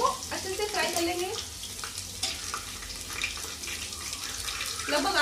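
Cumin seeds and garlic fry in hot oil in a pan for khichdi, giving a steady watery sizzle with a few brief clinks and stirs, moderately close and alone without any voice.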